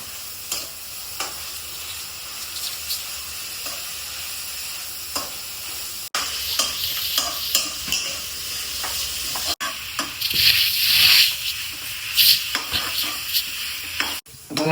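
Onions sautéed with salt for duck curry sizzle steadily in a pan while a spoon scrapes and stirs at intervals, close and continuous with no talking.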